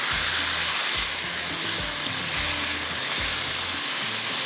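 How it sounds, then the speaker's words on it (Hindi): Meat frying in a pan with ginger, garlic and spices, a loud, dense sizzle and hiss carrying on steadily with soft stirring scrapes underneath. "इसको थोड़ा आपने भुनाई कर लेनी है"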